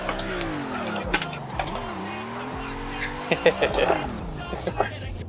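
A car drifting in a racing simulator video game, its engine note rising and falling with tire squeal and skidding as it slides sideways. Short bursts of clatter come near the end.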